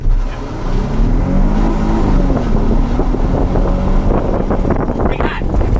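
A Nissan Skyline 350GT pulls away and then accelerates hard, its engine droning and rising steadily under heavy wind buffeting. Heard from inside the car, with people talking faintly.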